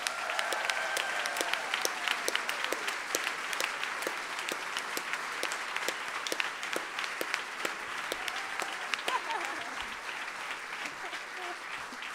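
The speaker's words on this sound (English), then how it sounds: "Can we have a huge round of applause for the organizers of this festival?" Festival audience applauding the organizers at an outdoor music event, sustained clapping from a crowd with distinct individual claps standing out, a few faint cheers mixed in, moderate level throughout.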